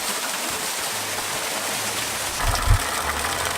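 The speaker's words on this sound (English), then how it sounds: "That's the waterfall for sure." Waterfall in an Amazon canyon, a steady broadband rush of falling water heard from a distance, with a brief low rumble near the end.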